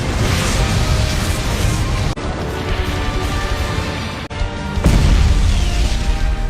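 A continuous roaring blast with booming low rumble and crackling bursts, interrupted by two abrupt cuts before surging louder again.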